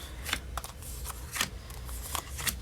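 A deck of cards being shuffled in several quick riffling bursts during a card reading, close up and fairly quiet, with soft handling noise between them.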